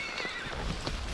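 A mare whinnies in a pasture during a horseback ride, a loud close neigh against outdoor background noise with faint hoof clops.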